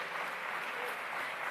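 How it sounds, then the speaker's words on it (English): A room of attendees applauds the panelists at the Second Presidential Summit on Gender-Based Violence and Femicide, giving a continuous, somewhat subdued wash of clapping with no break. "Please let's give them a round of applause, if you will."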